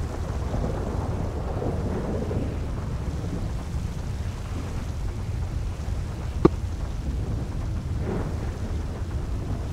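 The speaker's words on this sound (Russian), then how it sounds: "Весь день, чувак, дождь херачит. С грозой, мать его." Rain and a thunderstorm in the video game GTA 5, a steady dense hiss of rain with low rolling rumble and one brief sharp crack of thunder midway, no talking.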